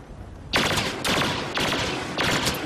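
Blaster fire from the Star Wars Battlefront video game comes in four loud, rapid bursts about half a second apart, each a dense crackling volley with no voices.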